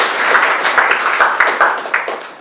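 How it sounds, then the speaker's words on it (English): Guests at the Genesis II'Xhibition art exhibition give a loud, close burst of clapping, uneven and lively, with individual hand claps standing out in the mix for a couple of seconds. "Please, a round of applause for them."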